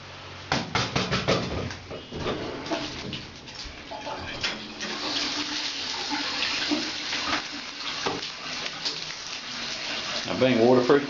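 A waterproof metal detector part gets washed in bath water, with running and sloshing splashes, irregular bursts near the microphone, and a voice talking at times over the water.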